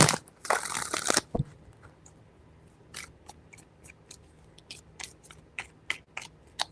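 A tarot deck shuffled up close: one loud dense riffle at the start, then a run of lighter card flicks and taps spaced out, with no talking.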